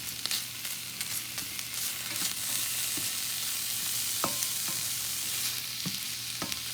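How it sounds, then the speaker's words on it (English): Vegetables sautéing with Thai chili peppers in a pan for pho, giving a constant close sizzle with occasional sharp clicks and scrapes as the mix is stirred. "saute them a little bit, not too much because you want that crunchiness in the bowl"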